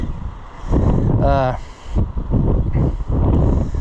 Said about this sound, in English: It's getting super windy